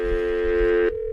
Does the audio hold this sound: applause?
no